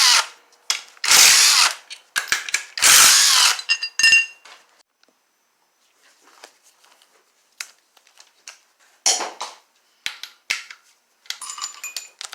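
Power tool spinning out the 13 mm bolts of the AC compressor bracket on a Chevy Cruze engine during teardown: loud bursts of whirring and ratcheting near the start, then quieter clinks and short tool bursts, no talk.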